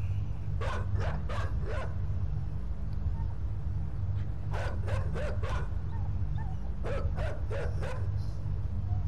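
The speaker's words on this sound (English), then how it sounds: "Another dog already?" A dog in the video game Inside barks in three rapid bursts of sharp yips over a constant low rumble of game ambience; no talking.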